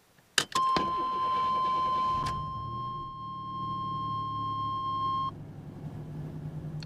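A car fitted with an Auto Meter Phantom wideband air/fuel gauge cranks briefly and catches, then idles in a low, steady rumble. A loud electronic beep tone runs over the engine for several seconds before cutting off.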